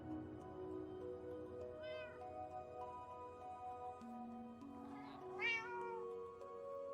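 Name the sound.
cat meowing in Minecraft video game cat cafe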